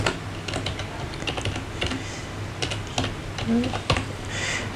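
Typing on a computer keyboard, a run of light, irregular clicks and taps at close range with uneven rhythm and short pauses between bursts, with no talking.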